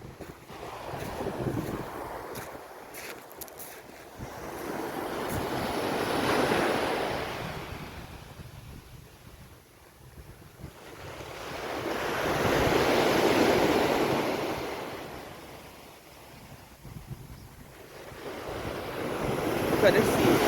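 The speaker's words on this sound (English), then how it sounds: "Look at the sea." Sea waves rolling onto a rocky seaside in wind, two broad swells of surf rising and falling with steady wind noise buffeting the microphone between them.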